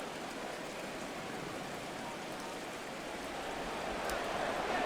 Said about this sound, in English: The rain set to continue as we are underway in the second half.